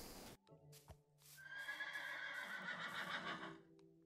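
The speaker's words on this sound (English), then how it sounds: "Did you hear that horse?" A horse in a Minecraft game neighs loudly in a long whinny, preceded by a couple of short hoof clops, heard alone with no talk over it.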